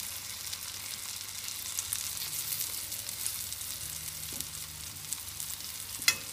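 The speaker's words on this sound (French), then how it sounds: "Mes pommes sont dans le beurre, elles sont en train de rôtir." Apples frying in butter in a pan with piment d'Espelette give a steady, soft crackling sizzle throughout, close and moderately quiet, with a small clatter near the end.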